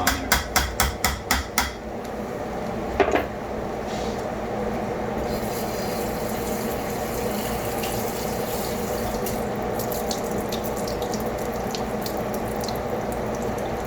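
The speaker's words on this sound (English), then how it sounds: "So I went and gave a little rinse to all this macaroni." Running tap water rinses cooked macaroni in a kitchen sink. A few sharp knocks come first, then a steady, loud, even rush of water continues to the end.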